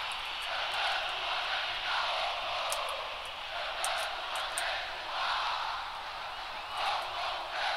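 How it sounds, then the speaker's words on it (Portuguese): A crowd of Brazil fans roars steadily in a Bomba Patch football video game during Brazil versus Cameroon, a dense continuous cheer that swells and dips slightly throughout. "Vocês estão escutando isso, né? Torcida do Brasil tá lá."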